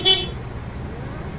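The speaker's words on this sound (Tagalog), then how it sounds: "Busina mo na po" A Yamaha NMAX scooter horn gives a single short, loud toot at the start, then fades into quiet street background.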